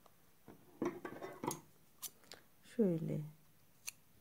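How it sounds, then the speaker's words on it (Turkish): Scissors cut knitting yarn for a knitted neck scarf with a few quiet, crisp snips spread across the moment, while someone speaks softly in Turkish between them. "Şu alt kısmından şöyle şuradan keselim."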